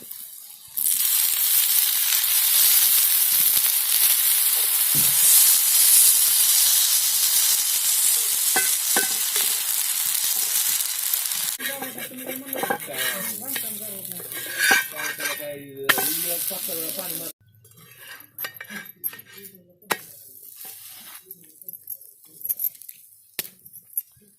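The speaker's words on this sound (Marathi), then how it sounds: "थोडंसं कढईने तेल सोडून घेऊ आता." Oil sizzles loudly in a pan as a rustic dhapate flatbread fries, a steady crackling hiss with occasional clinks of a spatula or utensil, then the sizzle drops away into sparse scraping and clinking.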